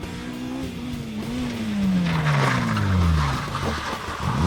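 A Ford Escort Mark 1 race car on a hill climb course, its engine droning and dropping in pitch as the tyres squeal and skid through a corner, the noise swelling loud and near before the revs pick up again.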